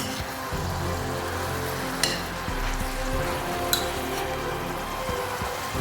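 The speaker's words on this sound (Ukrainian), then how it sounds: "Висипаємо перець. Перемішуємо." Peppers frying in a pan for eggplant caviar while being stirred, a continuous close sizzle broken by a couple of sharp utensil clinks against the pan, with no talking.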